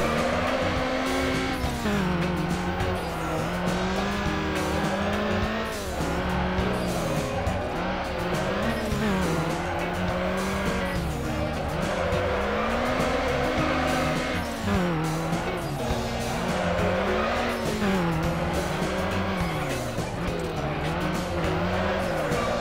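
In the racing game Need for Speed: Underground, a car's engine drones steadily while its tires squeal through long drifting slides, the pitch rising and falling in repeated waves over a continuous loud roar.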